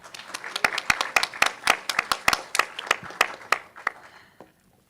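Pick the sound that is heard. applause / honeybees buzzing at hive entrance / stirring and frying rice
applause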